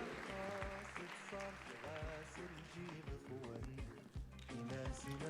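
An audience applauds a second jury prize at the Moroccan final of Ma thèse en 180 secondes, with steady clapping mixed with loud music throughout.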